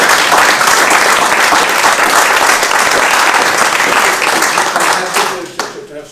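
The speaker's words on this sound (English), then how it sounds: "So I'd like you all to give her a big round of applause." An audience claps in a big round of applause at a commemorative weekend event, steady and full for about five seconds before thinning into scattered final claps.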